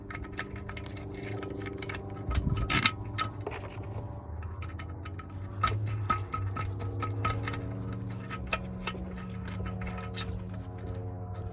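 Small metallic clicks and scraping from bolts being snugged down on a porcelain toilet during maintenance, irregular and close, over a steady low background hum.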